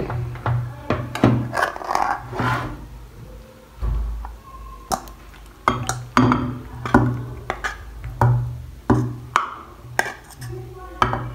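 Pasta stirred into a bowl for a quick macaroni dish: close, irregular clinks and taps of a utensil against the bowl, scattered through the clip.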